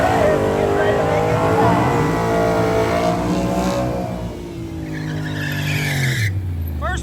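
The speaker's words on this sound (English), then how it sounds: "First pass for the mid-engine LS swapped Toyota." A mid-engine, LS-swapped Toyota truck with a tube chassis roars loudly at drag strip speed at Indianapolis, engine tone sweeping through gears with tire noise, under a voice talking over it.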